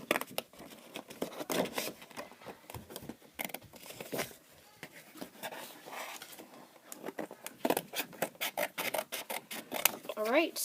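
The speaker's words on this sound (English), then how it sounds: "we're going to cut it along the line with take our scissors and cut it" Scissors cutting paper along a traced line while making DIY Pokémon card sleeves: quiet, irregular snips and paper rustles, close up, with some talk in the room between cuts.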